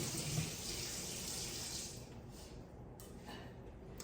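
Tap water runs steadily over an already washed chicken in a sink, a soft continuous splashing flow that thins and changes tone partway through, heard alone at low level.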